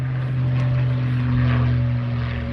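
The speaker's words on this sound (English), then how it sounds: "Is that a P-51 Mustang?" A P-51 Mustang propeller plane drones steadily overhead during a World War II air show at an airport, a constant engine hum with no voices.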